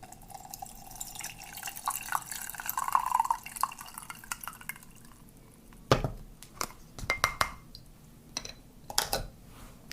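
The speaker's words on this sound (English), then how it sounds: "Okay, so it might be time to pour some tea." Brewed tea poured from a pot into a cup, a steady liquid trickle with drips over the first seconds, then a series of sharp clinks and taps of crockery toward the end, with no talking.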